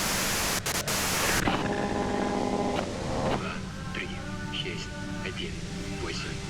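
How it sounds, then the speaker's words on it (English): Hissing white-noise static from the video game Disco Elysium, loud and steady, with a tonal hum and spoken voices over it. "you can do it through the white noise"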